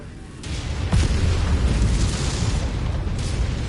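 A missile explodes in the video game Mechwarrior 5: Mercenaries, a loud low boom that swells after the first half second and rolls on as a sustained rumble through the rest of the clip, with no voices over it.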